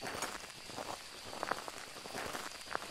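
Rain in the horror video game Phasmophobia, a quiet steady patter of drops on surfaces with occasional sharper taps and soft thuds like footsteps.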